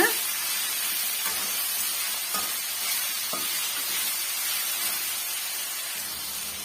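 Chopped tomatoes with salt sauté in a pan, a steady close sizzle with occasional scraping stirs and no voices.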